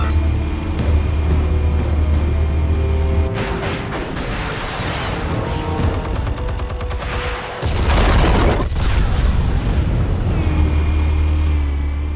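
Explosives detonating in the Batman: The Telltale Series video game: a heavy low rumble that drops away into a burst of crackling blasts and debris, followed by another deep boom and a sustained loud roar.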